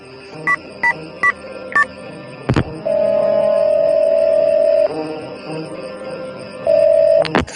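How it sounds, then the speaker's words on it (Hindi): Mobile phone keypad tones beep in a quick run of separate presses, followed by a long steady tone and another brief tone at the end, with a low background hum. "अपने मोबाइल से किसी को फोन करने लग जाता है"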